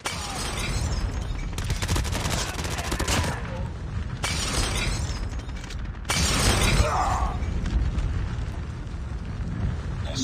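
Gunfire in Call of Duty Mobile, with loud, dense bursts of rapid shots and crashing impacts in several bands, close and continuous, broken by brief lulls. Low game chatter can be heard faintly beneath.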